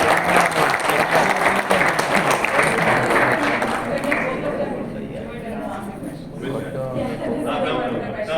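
Audience applause and cheering swell at a bodybuilding talk as a man prepares for push-ups, loud and dense at first, then easing into a softer sustained clapping with crowd chatter mixed in.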